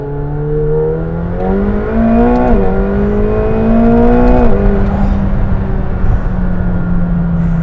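A McLaren 720S pulls hard in second gear from 40, its engine note climbing steadily with loud rising harmonics, a brief dip at a shift point, then continuing strong under heavy load, close and without voices.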